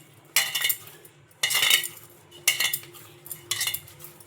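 Soaked rumali paratha dough being mixed in a metal bowl, four evenly spaced bursts of scraping, clattering strokes close up, with quiet pauses between them.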